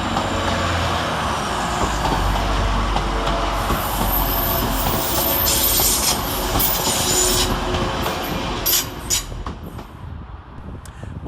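Transpennine Express unit 185113 pulls out of Manchester Piccadilly, wheels squealing and clattering over rail joints in a loud, sustained rumble that eases slightly toward the end, with no talk.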